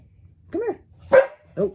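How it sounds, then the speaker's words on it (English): A pet dog barks indoors, three short sharp barks spaced apart, close and loud, while a person speaks briefly to it. "Sorry, that is my dog."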